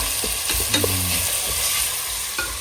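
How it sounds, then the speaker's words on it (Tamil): Onions sautéing in a pan for mushroom biryani give a steady close sizzle, with scraping stir strokes and soft clinks from the utensil against the pan. "ஆனியனை இப்போ நல்லா வந்து வதக்கிடணும்."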